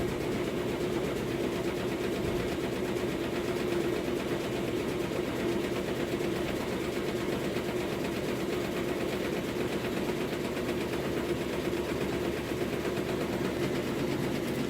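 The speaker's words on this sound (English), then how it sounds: "that noise is actually the drain tube in the back that I didn't tie down" Maytag MVWC465HWO top-load washer running with its drain tube left untied at the back: a steady, faint mechanical rattle and hum that continues evenly throughout without pauses.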